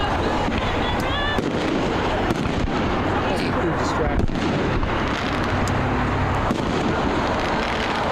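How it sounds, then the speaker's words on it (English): Fireworks crackle and pop continuously at a college soccer match between Medaille and Hiram, with rapid, dense bursts throughout while a commentator talks over them. "And the fireworks still going on, Connor."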